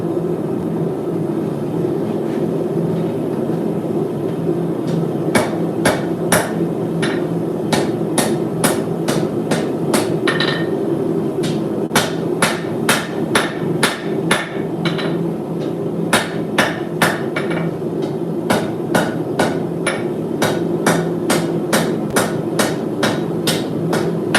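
Hammer blows ring out while a katana blade is forged, sharp metallic strikes in irregular bursts and fast runs over a steady low rumble of forge or shop noise, loud and close with no talk.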